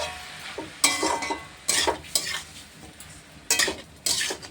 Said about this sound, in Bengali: এবার এটাকে একটু নাড়াচাড়া করব